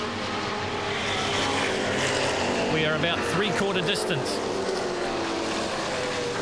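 Muscle race cars, including a Ford Falcon and an XC Cobra, roar past at Hampton Downs during a New Zealand motor racing festival. Engine notes rise and fall as the cars sweep by, under continuous commentary.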